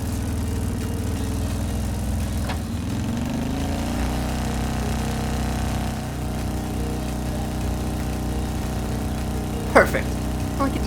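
The motorbike and sidecar engine from Trails of Cold Steel hums steadily, then its pitch climbs as it speeds up, a continuous mid-low drone with a brief sharp click near the end.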